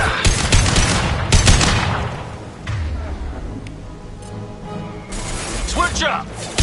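Heavy bursts of gunfire and booming impacts crash through a Mass Effect 2 Legendary Edition battle, with loud cracks early and again near the end over clanking mechanical noise, while in-game voices shout over the combat.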